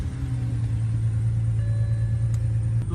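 A 2007 BMW 328i with a bad ignition coil pack and a cylinder 2 misfire runs with a steady, low, close engine rumble throughout, with no talk.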